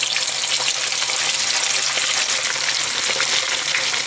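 Vegetarian kibbeh frying in hot oil, a dense, even crackling sizzle that holds steady and close throughout, with no voices.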